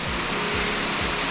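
A waterfall on the Pine Ridge Trail near Pine Valley, California roars as a loud, steady, close rush of falling water with no voices.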